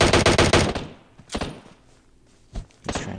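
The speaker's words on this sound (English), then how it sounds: "He's trying to take a shot at me right there." Bursts of automatic gunfire from the battle royale game PUBG: a rapid volley up front, then several shorter single shots spaced apart, loud and close with no talking.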